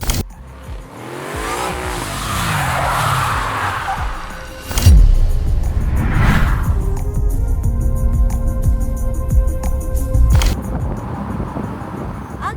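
A Lexus LBX is driven, with continuous engine and road noise heard from the car, rising and falling tones as it accelerates, and a couple of sharp thumps along the way.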